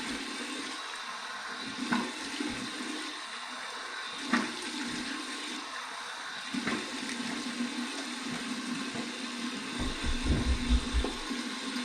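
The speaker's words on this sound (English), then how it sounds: "Here's my warm water rinse." Warm water rinse running into a bathroom sink after a wet shave, a continuous close splashing rush of water with a few brief knocks and gurgles, no talking.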